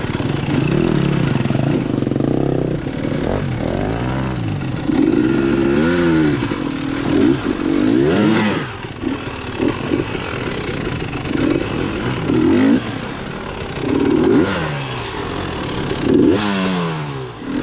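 A Beta XTrainer motorcycle, fitted with a Lucky insert and AMP damping, ridden along a wooded trail; its engine revs up and down continuously and loudly, with throttle blips and some clatter throughout.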